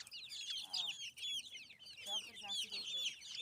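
Several village chickens cluck continuously close by, giving a busy overlapping chatter of short rising calls with only brief pauses.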